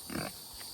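Pigs grunt faintly at a distance on a farm during evening chores, a brief low snuffling burst over quiet outdoor background hiss.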